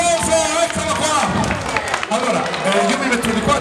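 A crowd at a live outdoor tour show in Piazza dei Pesci, Vercelli, bursts into loud, sustained clapping with scattered cheers and whoops, while a voice carries over the applause throughout.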